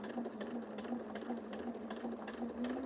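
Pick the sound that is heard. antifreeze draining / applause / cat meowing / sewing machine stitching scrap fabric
sewing machine stitching scrap fabric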